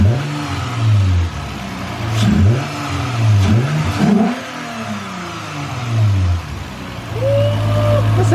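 A Lexus IS350 F Sport fitted with a new intake revs repeatedly in short, punchy bursts that rise and drop back, then settles into a steady idle. People talk faintly in the background.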